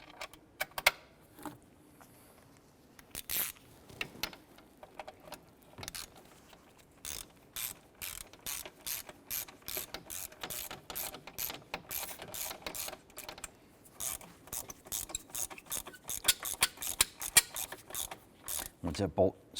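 A ratchet tightens the upper bracket bolt on an intake gasket job on a 2011-2018 Ram, giving long runs of quick, close mechanical clicks in steady bursts with short pauses between them.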